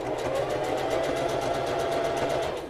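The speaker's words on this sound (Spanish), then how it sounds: "Y volvemos por donde habíamos cosido." A sewing machine stitching back over an existing seam on a girl's shorts, running steadily and close with a fast, even pulse of needle strokes throughout.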